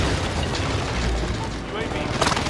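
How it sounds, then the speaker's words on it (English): Deep rumbling explosions from a precision airstrike in Call of Duty Warzone on Fortune's Keep, a continuous heavy roar with a sharper blast near the end, under game voice-over. "Allied precision airstrike into losing ground."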